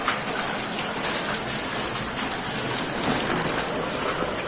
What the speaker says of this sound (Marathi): आता पावसानं आता मेन खरी म्हणजे सुरुवात झालेली आहे